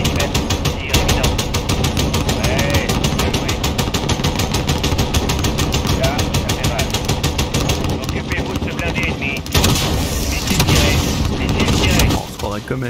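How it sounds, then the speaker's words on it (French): Rapid, sustained 30 mm cannon fire in Call of Duty: Modern Warfare (2019) hammers away in a loud continuous stream under engine roar, briefly pausing near the end. "On approche avec canon 30 mm, tir imminent."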